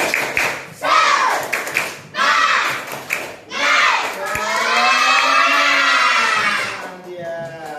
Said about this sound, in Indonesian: Coba tepuk semangat ya.